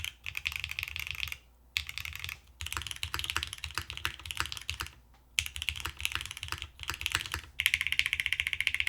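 Typing on a Class 100 mechanical keyboard, with steady rapid keystroke clatter and thocky spacebar presses, close and loud. Short pauses break the runs, and a brighter burst of typing comes near the end.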